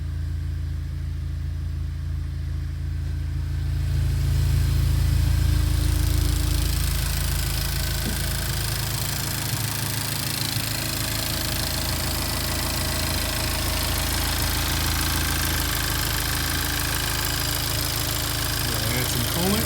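A freshly installed engine runs at a steady idle after its first startup, a continuous low rumble with a brief swell early on, with some talking in the background.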